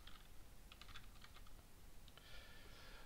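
Quiet typing on a computer keyboard, a short run of light clicking keystrokes, a pause, then a few more taps over a soft background hiss.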